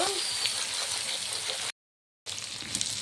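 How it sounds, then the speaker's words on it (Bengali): Steady crackling sizzle of ginger frying in hot oil with turmeric, close and continuous, broken by a brief silent gap. "আদাটাকে ভালো করে ভেজে নেব।"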